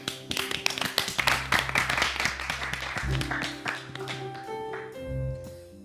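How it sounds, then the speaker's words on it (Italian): Rhythmic group clapping on a comedy show in Italy keeps time with music as a band starts a jingle, sharp regular claps over a steady musical backing. "applauso"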